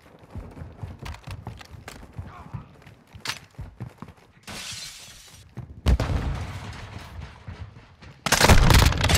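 Gunfire from hip firing in a Call of Duty match: sharp, loud bursts of rapid shots come in several separated volleys. The final burst is the loudest and densest.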